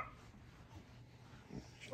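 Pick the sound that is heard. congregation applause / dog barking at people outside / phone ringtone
dog barking at people outside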